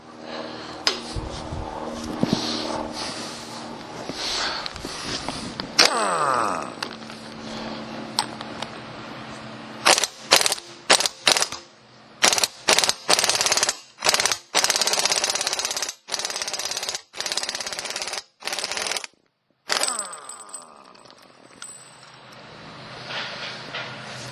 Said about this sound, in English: I'm going to hit this with an impact and see if we can get it off.